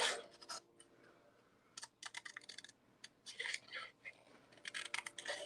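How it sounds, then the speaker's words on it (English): Scissors fussy cutting around a stamped paper image for a rainbow-themed card, leaving a small border; short bursts of crisp snipping and paper scratching, close and fairly quiet, with a little talk between cuts. "we're going to fussy cut this for a moment."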